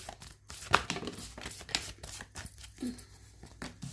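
Tarot cards being shuffled by hand, giving a few brief papery riffles and slaps with soft crinkling between them, close and fairly quiet, no talking.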